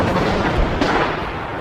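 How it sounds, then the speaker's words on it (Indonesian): A gunshot sound effect in a forest, a loud, heavy boom with a rolling echo over under two seconds, with no voices. "Suara tembakan terdengar begitu keras, menggema di seluruh hutan."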